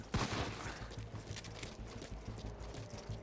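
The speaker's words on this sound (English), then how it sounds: "I'm sure someone heard that gunshot." A sharp gunshot crack opens the clip in Metal Gear Solid V Ground Zeroes, followed by rhythmic mechanical clatter and ambience at moderate level, with no speech.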